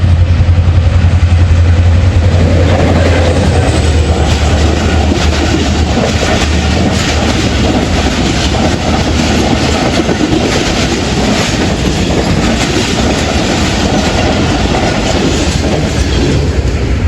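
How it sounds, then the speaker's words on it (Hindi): The Karakoram Express passes close by at night before dawn, a loud, continuous roar of rolling wheels with rhythmic clickety-clack over the rails throughout. "ये 41 अब कराक्रम एक्सप्रेस आ रही है"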